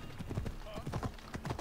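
Horse hooves clip-clop in quick, even beats on a hard surface in Assassin's Creed Odyssey, fairly faint, with the horse briefly whinnying partway through.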